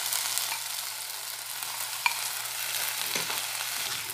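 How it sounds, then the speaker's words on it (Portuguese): Seasoning and tomato sauté in a pan, giving a steady soft sizzle with faint stirring scrapes and one small click, close and continuous without talk. "Eu tô refogando tudo aqui para esse tempero incorporar no molho de tomate"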